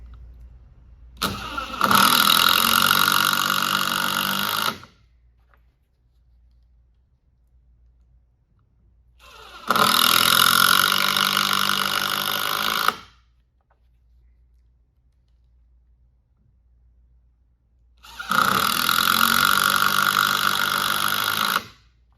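A Wiha or Dewalt impact driver drives screws without pilot holes in three loud, close bursts of about three seconds each, separated by quiet pauses.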